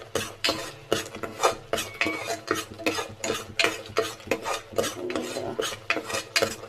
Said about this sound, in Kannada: ಸ್ವಲ್ಪ ಎಲ್ಲ ಪೌಡರ್ ಎಲ್ಲ ಮಿಕ್ಸ್ ಆಗೋವರೆಗೂ ಕೈ ಆಡಿ.